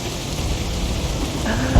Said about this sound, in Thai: เพราะว่าฝนตกเอาละกลับมาอีกแล้ว